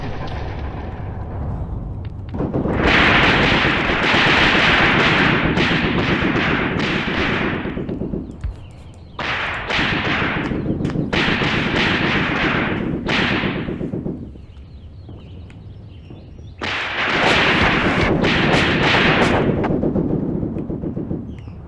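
Gunfire and artillery in a World War II desert battle, with long loud bursts of sharp cracking shots separated by quieter gaps, close and harsh.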